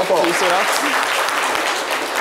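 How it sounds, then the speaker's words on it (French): Audience applause at a live show, a crowd clapping steadily and close, while a voice talks over the clapping at the start. "Applaudissez-le, s'il vous plaît."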